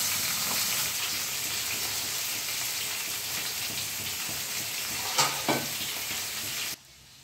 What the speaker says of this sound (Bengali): এবার আমরা মাছগুলো একে একে এই তেলে ছেড়ে দিয়ে ভালোভাবে ভেজে নেব।